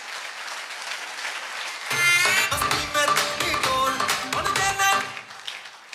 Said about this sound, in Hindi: जोरदार ताली होनी चाहिए सर के लिए।